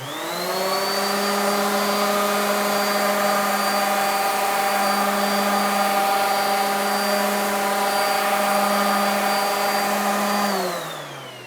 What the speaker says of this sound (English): We don't really need to do this with the random orbit sander,